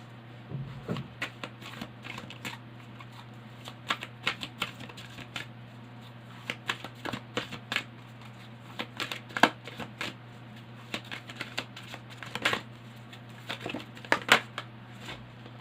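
Tarot cards are shuffled close by in quiet, irregular bursts of soft flicks and riffles over a low steady electrical hum.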